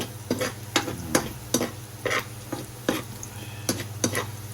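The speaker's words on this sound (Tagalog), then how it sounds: "gisa-gisa lang tayo mga kapatid" Garlic sautés in a pan with a steady low sizzle, while a utensil stirs and scrapes in regular, close clicks and taps about every half second.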